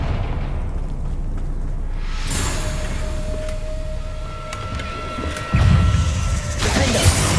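A Confringo fire-blast spell goes off in Hogwarts Legacy, a rushing explosive burst with a sustained whoosh and ringing tone, followed by a heavier impact thud near the end, with no talking.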